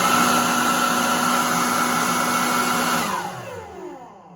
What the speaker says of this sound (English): I would say it's not terrible for a blower, but it's not the quietest out there